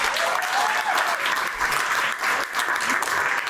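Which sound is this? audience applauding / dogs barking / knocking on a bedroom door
audience applauding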